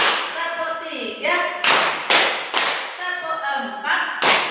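Students in a group clapping routine strike sharp, loud unison claps in short counted bursts, each crack dying away quickly, while a voice calls out between them.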